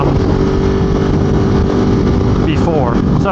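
A 2022 Ducati Monster motorcycle cruises in top gear at about 5,500 RPM, its steady, loud engine drone constant and close, blended with rushing wind noise throughout.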